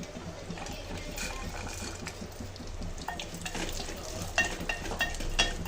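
Gentle sizzling of dry fruits and raisins roasting in ghee for wheat flour laddu, with a spatula scraping and stirring, getting busier toward the end.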